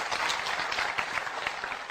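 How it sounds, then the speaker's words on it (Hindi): Audience applause at a motivational seminar for professors and teachers, a continuous, even wash of many hands clapping, moderately loud and unbroken throughout. "जोरदार तालियां बजाओ भाई देश के"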